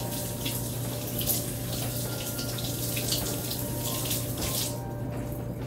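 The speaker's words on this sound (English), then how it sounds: "I'm just gonna wash it off and just throw it in here." Tap water runs steadily into a kitchen sink while garlic cloves are rinsed for homemade pesto, a continuous close splash that cuts off near the end.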